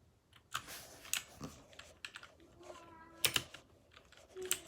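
Typing on a computer keyboard during warfare gameplay: irregular bursts of close clicking keystrokes, with faint voices and a brief meow in the background.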